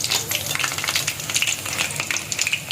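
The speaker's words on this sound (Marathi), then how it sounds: "जेवढं मीडियम फ्लेमवर आपण तळून घेतो तेवढे ते छान क्रिस्पी होतात" Vadas for a Marathi-style jitvada vegetable dish frying in oil over a medium flame, a steady, close crackling sizzle with dense bubbling that continues unbroken and without speech.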